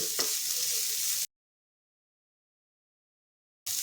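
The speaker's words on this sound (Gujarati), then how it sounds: "બધું જ આપણે મિક્સ કરીને સાતરી લઈશું" Chopped green onion whites sautéing in a pan for a Kathiyawadi stuffed rotlo, a soft, close sizzle with a light stir for about a second before sudden silence, then the sizzle briefly returns.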